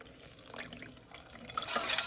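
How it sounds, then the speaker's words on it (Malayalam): Half a cup of water poured into a pan of jaggery and cornflour for a wheat pudding, a short splashing pour that swells toward the end, heard close up with no talking. "അതിലേക്ക് അര കപ്പ് വെള്ളം ഒഴിച്ചു കൊടുക്കുവാണേ"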